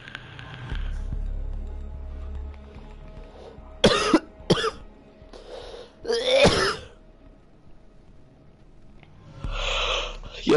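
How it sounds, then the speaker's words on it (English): A person coughs into a gaming headset microphone during a Rainbow Six match in several harsh, close bursts, with short pauses and low background noise between them. "Yo, stop fucking coughing."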